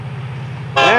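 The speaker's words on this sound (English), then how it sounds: "You hear the toot toots signifying that the train sees them." A low locomotive engine rumble idles, then a loud, close horn blast from a Florida East Coast Railway local freight train suddenly sounds and holds to the end.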